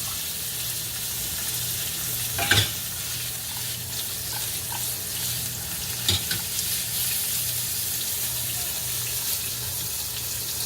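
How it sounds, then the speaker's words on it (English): Spaghetti squash hitting a pan with caramelized garlic, frying with a loud continuous sizzle close up, broken by two brief clattering stirs. "this is the point we're going to add our spaghetti squash"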